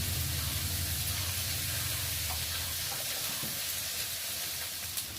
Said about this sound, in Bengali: এবার আলু আর বেগুনটা একটু তেলের মধ্যে ভালো করে ভেজে নেব।